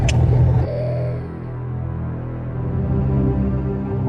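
A car drives along with a steady low engine rumble, fairly close and even, following a brief louder burst at the start; no speech is heard.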